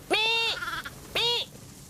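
Sheep on a farm in the valleys of southeastern Minnesota near Rushford bleat twice, each a loud, close, wavering call about a third of a second long, separated by a short pause.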